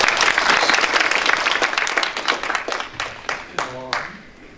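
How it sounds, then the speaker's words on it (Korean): An audience applauds a professor taking the stage at a university policy presentation, the clapping loud and dense before trailing off into scattered claps, with a voice starting to speak at the end. "큰 박수를 부탁드립니다"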